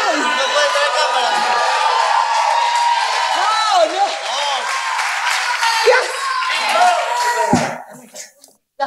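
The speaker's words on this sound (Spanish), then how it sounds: "Más fuerte, aplauso." Live concert audience clapping, cheering and whooping loudly for a rock singer, with a voice and crowd shouts over the noise before it drops off near the end.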